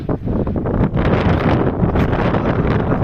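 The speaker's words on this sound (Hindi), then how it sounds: "बड़ी तेज़ हवा है इस वक्त ना।" Strong wind roars steadily across the microphone beside the flooded Chenab river in Punjab, Pakistan, a loud continuous buffeting with gusts and no talk.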